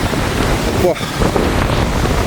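Strong wind and rough sea waves crash on the Jaffna coast as a storm builds and rain approaches, a loud, continuous roar with wind buffeting the microphone and a brief higher call near the middle.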